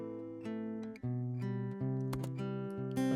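Unprocessed, directly recorded acoustic guitar plays fingerpicked notes and chords, dry and close, with soft plucks and sustained tones ringing alone.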